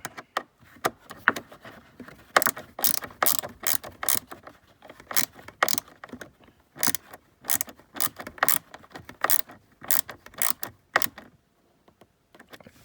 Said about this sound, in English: then you use your T25 again, just snugging it up. It doesn't have to be tight.